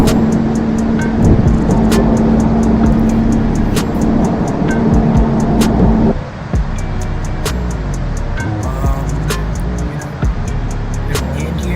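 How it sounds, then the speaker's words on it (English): A Boeing 737-700 touching down in a flight simulator game, a loud steady engine and airflow roar that drops in pitch and level partway through as the jet slows, with repeated faint clicks throughout. "We're gonna land here. It's gonna be loud for a second"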